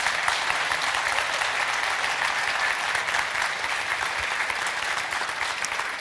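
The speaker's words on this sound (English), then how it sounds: "I think he deserves a little bit of applause" An audience at Shopware Community Day applauds a conference speaker with dense, steady clapping that holds evenly for six seconds.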